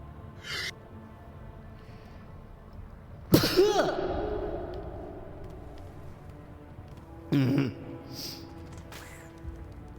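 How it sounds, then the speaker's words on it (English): A sneeze bursts out sharply, followed by a lingering sniffly breath, then a second shorter sneeze-like burst, all close to the microphone in an otherwise quiet room. "was a sneeze, believe it or not"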